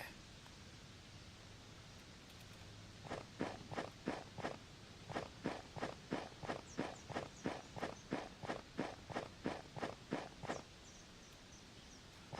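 Footsteps sound effect in a 2.5D Pokemon Snap-style video game: a steady run of evenly spaced, crisp steps, about two per second, over a soft hiss of background noise.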